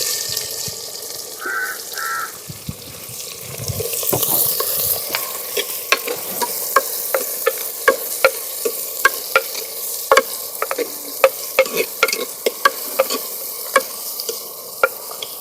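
Whole spices (cinnamon, fennel, cloves, cumin) with onion and green chilli frying in a hot pan for a spicy trotter curry, a steady sizzle broken by frequent sharp clicks of a spoon stirring against the pan, close and fairly loud, with no talking.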